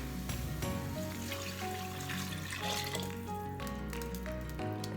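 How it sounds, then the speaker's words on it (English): Chicken stock poured into a pot of simmering onion soup, a steady liquid splash and sizzle running continuously and fairly close, with no talking over it. "this is just chicken stock, and I'm gonna add it in"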